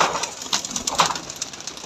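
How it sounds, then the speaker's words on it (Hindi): Soft, repeated pigeon coos come close together inside a pigeon loft against a light background hiss, with no voices. "ये मेरा उड़ा उड़ाया कबूतर है"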